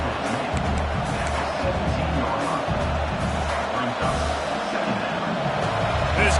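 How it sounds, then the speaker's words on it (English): A football stadium crowd roars as it rises to back its defense, a dense, steady wall of noise with no breaks, loud and continuous throughout. "This crowd rising up, sensing that its defense needs some help."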